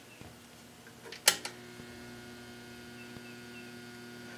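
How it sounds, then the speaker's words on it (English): A small battery charger hums steadily while charging a battery, a low, even electrical drone with a single sharp click partway through, otherwise constant and fairly quiet. "now I'm going to put this battery on charge here"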